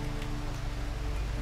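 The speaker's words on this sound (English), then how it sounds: "That is heavy rain." Heavy rain in the video game RimWorld, a steady dense hiss of downpour filling the whole moment with no other sounds.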